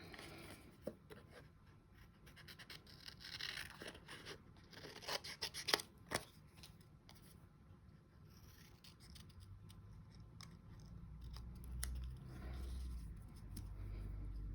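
Scissors trim a Cinco de Mayo craft embellishment, giving faint, close snips and rustling scrapes clustered in the first half, then a low background rumble.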